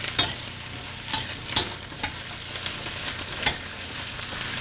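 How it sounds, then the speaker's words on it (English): Scallions stir-frying in a hot pan, with a steady sizzle broken by scrapes and stirring knocks about once a second, close and moderately loud, with no talking. "Now I'll add in the scallions. Cook them."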